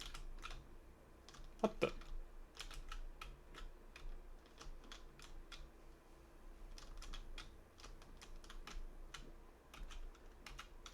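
Rapid clicking on a computer keyboard during a game session, irregular bursts of keystrokes with brief pauses, close and fairly quiet; a voice briefly exclaims partway through.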